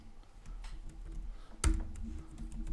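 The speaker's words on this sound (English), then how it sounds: "So I'll start typing out a script here." A computer keyboard being typed on, soft continuous key clatter with one louder thump partway through, all at low level under a steady hum.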